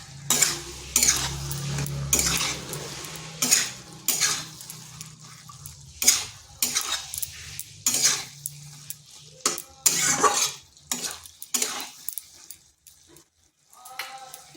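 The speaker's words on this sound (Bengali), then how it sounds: "এই মশলার সাথে ভালো করে কষিয়ে নিচ্ছি।" Bottle gourd stir-fried with cumin, coriander and chilli powder and slit green chillies, with bursts of sizzling and a spatula scraping the pan in uneven strokes, quieter gaps between.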